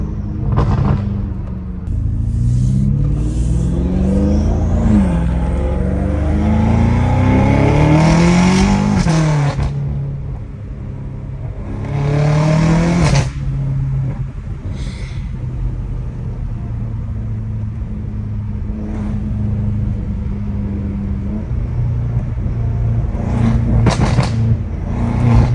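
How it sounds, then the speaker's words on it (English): BMW M5 Competition with a loud exhaust, engine revving through several pulls and shifts with a deep rumble, then dropping back to a steady idle-like drone with occasional sharp exhaust blips. "I hear the turbos like spooling up and like just that little spool is just so satisfying."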